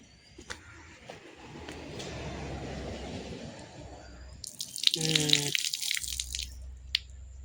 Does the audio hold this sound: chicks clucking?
no